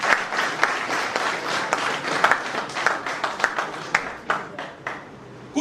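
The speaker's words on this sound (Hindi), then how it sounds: "ताली नहीं बजाएंगे आप उनके लिए?" An audience bursts into applause at a Hindi ghazal poetry event, a dense crowd of hand claps that carries on steadily and then thins toward the end.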